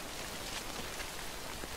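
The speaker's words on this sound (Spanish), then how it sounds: "Ya empieza a llover." Steady rain falling in Death Stranding, a dense even hiss of drops spread across the whole clip with no talk over it.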